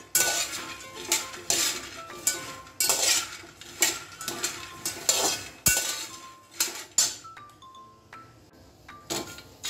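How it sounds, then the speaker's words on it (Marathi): Roasting peanuts being stirred in a pan for gul ladoo, with repeated scraping and clinking of a spoon against metal in uneven bursts, close and fairly loud, no talking. "तसे हलवतच राहायचे शेंगदाणे, मग खाली चिटकत नाही ते शेंगदाणे"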